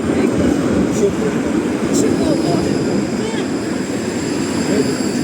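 A steady, heavy rumble of a tram rolling past fills the whole stretch, loud and constant, with no voices.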